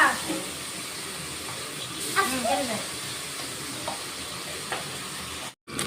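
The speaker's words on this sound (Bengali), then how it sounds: "আমার মাছ ভাজা হয়ে গেছে এখন নামিয়ে দিচ্ছি" Pabda fish sizzles in hot oil in a pan, a steady frying hiss with a few clinks and scrapes as pieces are lifted out, faint background voices and a brief cut near the end.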